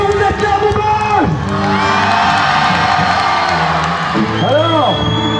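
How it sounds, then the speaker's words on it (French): A wrestling show crowd, children among them, cheers, whoops and shouts loudly, with a voice calling out over the noisy, energetic crowd. "je vous demanderai de faire un tonnerre d'applaudissements"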